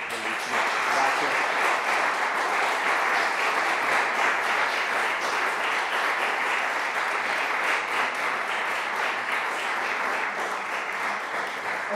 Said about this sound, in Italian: quindi proseguite pure questo applauso e lo salutiamo